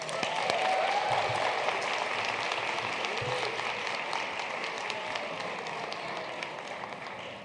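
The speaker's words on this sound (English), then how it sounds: "let's give him a round of applause." Sustained conference audience applause, a dense wash of many hands clapping steadily throughout with slight tapering toward the end, fairly loud and with no talking over it.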